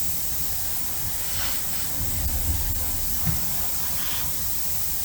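An Iwata Revolution airbrush with a 0.3 needle sprays in a continuous, even hiss, steady and close throughout with faint handling bumps underneath.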